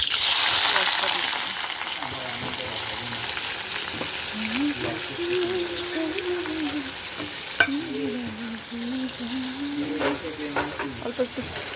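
Whole spices and onion frying in hot oil in a pan, with a steady close sizzle and hiss broken by the scrape of stirring, and a person talking under it.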